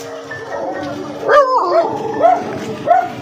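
A dog barks a few times at moderate distance, short sharp yips standing out over steady background chatter and outdoor noise.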